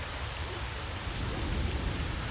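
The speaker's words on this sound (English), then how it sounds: "So it's raining." Steady, dense rain in the video game S.T.A.L.K.E.R.: Shadow of Chernobyl hisses evenly throughout, with a low rumble underneath and no voices.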